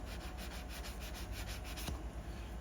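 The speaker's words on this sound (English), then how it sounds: "Sometimes I can sand it off by doing this. Sanding that down," Filler is sanded off a model hit-and-miss engine part by hand, a quick, rhythmic back-and-forth rasp of close, soft strokes repeating about five times a second.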